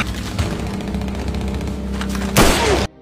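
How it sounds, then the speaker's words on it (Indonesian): Loud bursts of gunfire crack through a dense, music-like soundtrack, building to a sharp blast near the end before cutting to silence. "Sang Kyun yang berada di sana sempat terkena tembakan."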